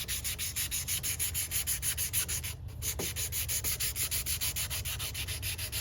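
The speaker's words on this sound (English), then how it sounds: "that first little bit of sanding I did in the joint there between the stem and the bowl" Sandpaper works the joint between the stem and bowl of a Native American ceremonial pipe in quick, even back-and-forth strokes, close and steady, with one brief pause midway.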